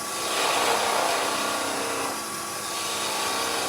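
The tip of a skew chisel slices end-grain fibres on a spinning wood lathe, making a continuous hissing, rushing cut that swells slightly and then eases, heard close and alone.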